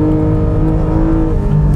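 Mid-engine Porsche sports car revving, a loud, steady engine drone with strong low harmonics and a held high note, continuous and close for the whole stretch.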